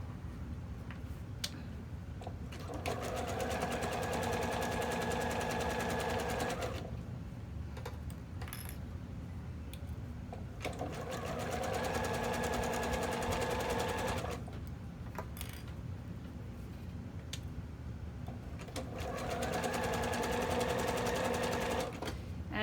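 A sewing machine stitches elastic onto a bralette in three long runs of fast, even whirring, each separated by brief pauses with small clicks and handling noises, close and clear.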